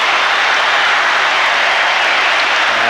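A packed stadium crowd roars and applauds after a try at a Rugby World Cup match between England and Tonga, a dense, loud wash of cheering that holds steady throughout.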